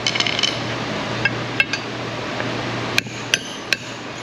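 A hammer strikes a chisel against a Ford Ranger XLT 3.0 4x4 wheel bearing, a handful of sharp metallic clinks spaced irregularly over a low steady hum, close and fairly loud, no voices.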